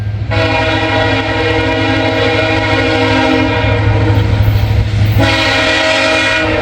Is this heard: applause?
no